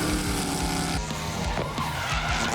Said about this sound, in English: Handbrakes it under the pedestrian bridge, heads up the main street once again